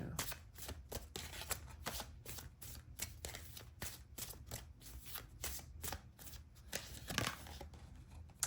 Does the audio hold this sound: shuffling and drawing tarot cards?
yes